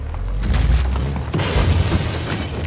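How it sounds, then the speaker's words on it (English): A grenade goes off in a video game, a heavy, loud boom with a deep low rumble and a second thudding burst partway through, with no voices. "Get me close enough for a grenade"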